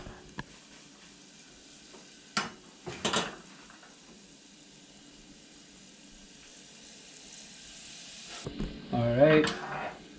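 Garlic browning in a hot pan sizzles faintly, broken by a few sharp clinks of utensils and a louder burst of frying near the end, with a voice talking briefly.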